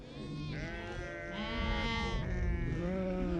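A flock of Moroccan sheep bleats in overlapping, wavering calls, loud and close, with several animals crying at once against a dense background murmur of the herd.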